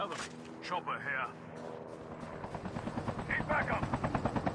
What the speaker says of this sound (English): Chopper here.